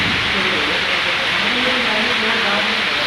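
Dense, steady hiss of heavy rain pours without a break in Baruth, Baghpat, a constant wash of falling water close by.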